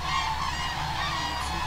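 A large flock of thousands of migrating cranes, resting on the way from Europe to Africa, calls continuously in a dense, overlapping chorus of honking trumpet-like cries, loud and steady throughout.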